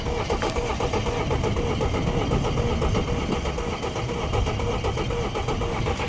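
A 2012 Audi A4 2.0T engine with a misfire runs steadily and loudly close by, a continuous rumbling drone with a brief sharp catch near the start.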